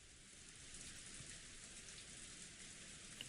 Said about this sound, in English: 雨、とうとう降り出したのね。